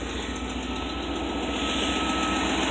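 A 2001 Toyota Tundra V8 idles steadily just after start-up with the check engine light on, a continuous, even, loud rumble with no voices.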